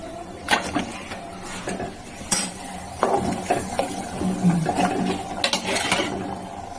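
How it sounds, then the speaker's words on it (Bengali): A ladle stirs hot water in a cooking pot of vegetables for rice-and-lentil khichuri, scraping and knocking against the metal in irregular clanks, close by with no voices. "গরম জলটা ভালো করে নেড়ে দিই"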